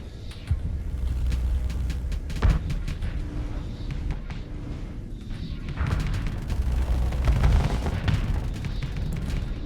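Ship weapons in the space game Starsector fire steadily to shoot down salamander missiles, producing a dense stream of rapid gunfire pops and booms with one sharp blast over a rumbling background.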